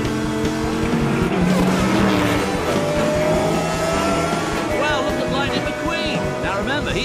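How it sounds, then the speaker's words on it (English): Animated race cars roar off the start line of a Tokyo race, a dense, loud blur of revving engines and whooshing passes filling the whole stretch without pause. "There's going to be tremendous speed from all these cars coming off the start line."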